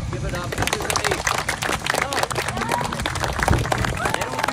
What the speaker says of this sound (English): Everybody clap, give it up.